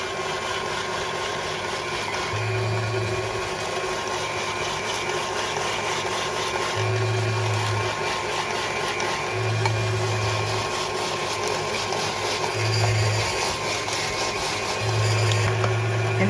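Kitchen machine attachment grating or processing potatoes and a piece of onion for potato pancakes, a steady mechanical whir running throughout, with short lower-pitched bursts as pieces are pushed through.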